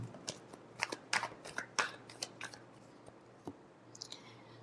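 Tarot cards being shuffled by hand: a quick series of crisp riffling slaps and flicks, close and quiet, easing into a few softer card taps.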